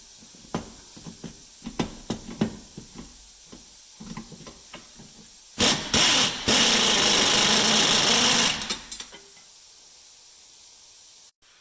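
Power tool working on the upper control arm bolt of a 2010 Mercury Mariner, with clicks and short taps leading into a loud sustained hissing, whirring burst of about three seconds, then quiet.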